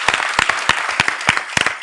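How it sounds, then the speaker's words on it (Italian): A crowd applauds with dense, continuous clapping in the Italian Chamber of Deputies during an election for the presidency office, close and fairly loud throughout. "può avvicinare qui Laura Castelli, gli possiamo fare un bel applauso"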